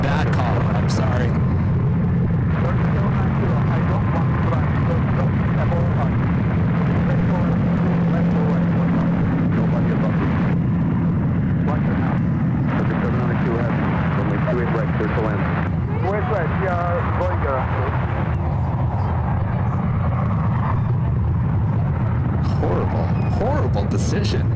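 An Emirates airliner takes off on runway 28 left at SFO with a sustained, loud engine roar that rumbles on and shifts throughout, while people talk over it.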